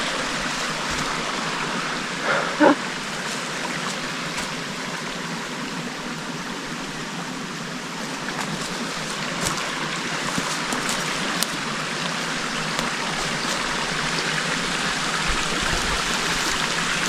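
A creek flows nearby in a continuous broad wash of rushing water that stays steady and fairly loud from start to end, alone apart from a few faint knocks.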